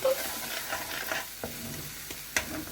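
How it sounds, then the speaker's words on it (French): Spoon stirring a thin sauce in a pan for malai paneer kofta, paneer and cashew dumplings, with steady scraping and soft sizzling and a sharper clink near the end. "Je vais essayer de touiller."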